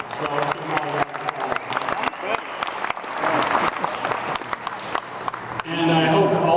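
An audience at a science advisory board talk applauds for the speakers, dense sustained clapping from a crowd, loud and close, swelling briefly near the end.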